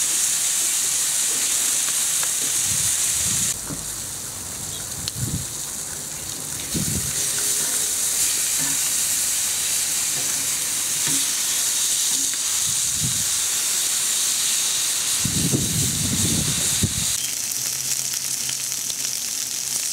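Pork slices sizzle and hiss steadily on a homemade wood and charcoal barbecue, a loud, close, continuous frying crackle with occasional louder bursts of spitting and no talking.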